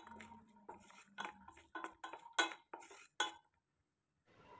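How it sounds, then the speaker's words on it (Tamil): A metal spoon stirs cashew nuts in a pan, producing a quick run of close, sharp scrapes and clinks that stop abruptly, followed by brief quiet. "அதே பேனில் முந்திரி பருப்பு சேர்த்து நல்லா கலந்து விட்டுக்கலாம்."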